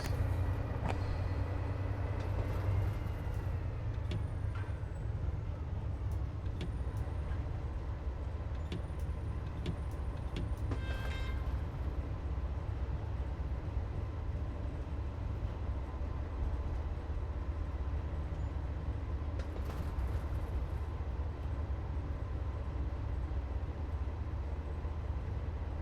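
A DB BR 365 shunting locomotive in Train Sim World 3 coasts with brakes released, a steady low rumble of wheels and running gear continuing without a break, with a few faint squeals and clanks.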